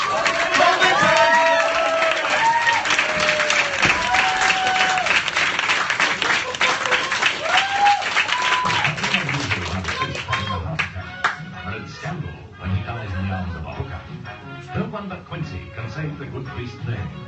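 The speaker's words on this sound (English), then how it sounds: "Let's start a round of applause." A live audience at a performance ring event applauds performer Paul Vinter with dense, steady clapping mixed with whoops and cheers. After about nine seconds the ovation thins into scattered claps under crowd chatter.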